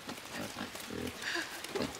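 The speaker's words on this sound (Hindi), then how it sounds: "ये सुअर जिंदा हो गया।" A pig grunting in a video game, a few low, rough snorts over about two seconds, steady and moderately loud with no talk.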